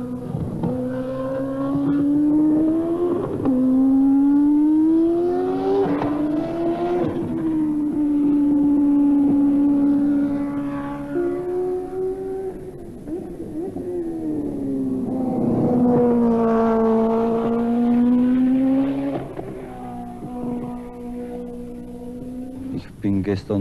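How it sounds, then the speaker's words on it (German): A 1984 Zakspeed 841 Formula One car driven by Manfred Winkelhock at a Nürburgring test roars loudly nearby, its engine pitch sweeping up and down through repeated revving and gear changes, with a narrator's voice over it. "Vorsichtig fährt Manfred Winkelhock die ersten Runden, kommt immer wieder an die Boxen"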